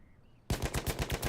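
A suppressed MG15 light machine gun with a bipod fires a fast, steady burst at close range in Battlefield 1, with evenly spaced muffled thumps starting abruptly after a brief quiet moment.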